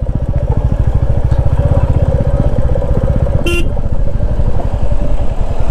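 A motorcycle chugs steadily in low first gear up a steep gravel off-road mountain track in Nepal, its engine a loud rapid throb, with a short horn toot partway through.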